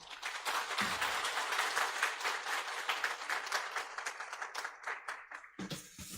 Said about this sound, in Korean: 오늘 특별 강사님 나오실 때 큰 박수를 부탁드리겠습니다.